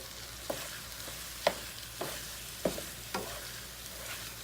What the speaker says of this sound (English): the heat from the frying pan is getting mixed in with all of that.